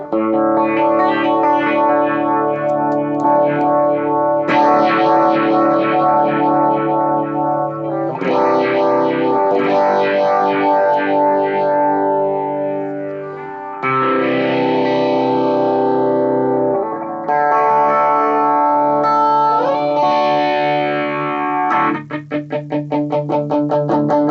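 Electric guitar chords ring through a small phaser pedal, with sweeping notches rising and falling slowly across sustained, distorted notes; loud and continuous, no talking.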